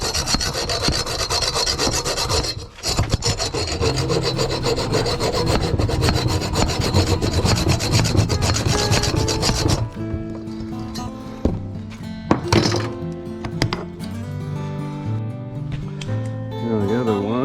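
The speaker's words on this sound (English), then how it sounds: "Now I'm going to have to go with plan B. Just use the old hacksaw." An old hacksaw cutting through a broken boat seat, giving fast, rhythmic rasping strokes that run loud and steady, then change to a lighter, more broken sawing with a few sharp knocks near the end.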